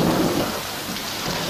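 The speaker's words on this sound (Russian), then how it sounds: "С тех пор он почти не переставал." Heavy rain pours down steadily in a broad roar, with deep thunder rumbling underneath, continuous and loud throughout with no voices.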